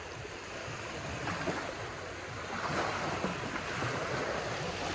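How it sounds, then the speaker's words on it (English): Wash from a passing boat lapping on Lake Windermere in winter, a steady close rush of small waves with light wind noise, no voices. "there's a boat just gone past, so I'm going to wait for these waves to go past"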